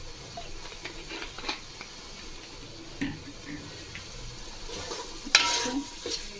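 Spice paste for chicken biryani sautéing in oil in a pan, with a low sizzle and occasional stirring scrapes and clinks, fairly quiet, and a voice talking over it.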